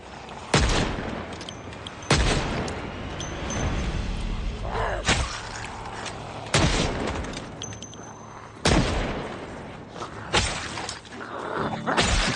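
Loud, sharp gunshots in Project Zomboid, about six separate cracks spread unevenly over the stretch, each standing well above a quieter background.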